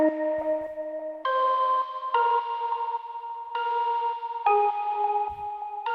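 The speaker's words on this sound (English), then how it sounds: "So let me play you this layered melody." A layered synth melody for an electronic Christmas song rings out in bright, bell-like sustained notes that step through a slow sequence of chord changes, played alone and fairly soft.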